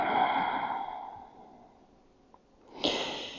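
During a yoga stretch, a slow, deep exhale trails off close to the listener, followed by a pause and then a sharp, audible inhale.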